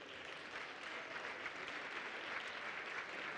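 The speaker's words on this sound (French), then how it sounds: "Je vous demande de l'applaudir." Audience applause at a women's parliament event in 2017 as an adventurer and lecturer is called on stage, a steady, fairly faint wash of clapping across the whole stretch with no talk over it.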